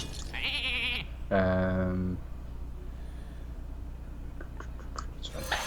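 Sheep bleats from a card video game, Hearthstone arena, two short synthetic bleats in quick succession, loud and close, followed by quieter game ambience and faint clicks.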